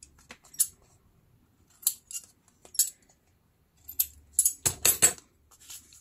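Scissors snipping the corners of a newspaper sign cover, a handful of short crisp cuts spread out then bunching together near the end, close and fairly quiet with no talk.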